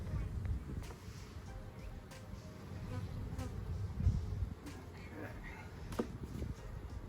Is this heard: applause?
no